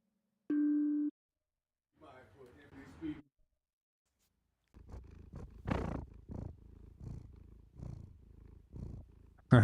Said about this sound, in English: That's a cat purring.